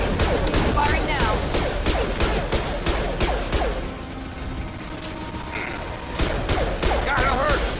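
Rapid gunfire crackles through a Mass Effect Legendary Edition firefight, dense bursts filling the first four seconds, easing briefly, then resuming loud and close amid mechanical clatter.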